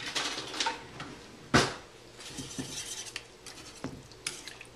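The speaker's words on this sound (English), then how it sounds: "As the cream cheese melts, I'm going to whisk it into" Cream cheese melting in a pan as it is whisked for tropical chicken, with soft scraping and stirring strokes, a sharp clink of the utensil against the pan, and a faint sizzle underneath, with no talking.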